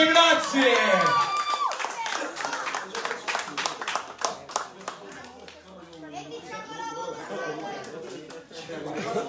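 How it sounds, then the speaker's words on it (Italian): Audience at a live Italian concert breaks into loud clapping that thins into scattered claps, mixed with crowd chatter and voices talking close by. "Applausi, grazie!"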